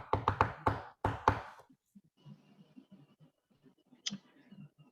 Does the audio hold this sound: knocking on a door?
yes